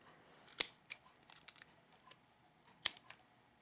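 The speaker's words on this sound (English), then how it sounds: "Let me find my other scissors here. I just kind of just trim this part off here at the bottom." Scissors trim the bottom of a small craft piece shaped like a pine cone, with a few close, sharp snips and soft clicks spread over a few seconds in a quiet room, no voices.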